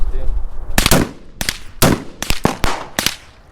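Rifle gunfire at an outdoor shooting range, six or seven sharp, loud cracks fired in quick irregular succession over a few seconds, close to the microphone.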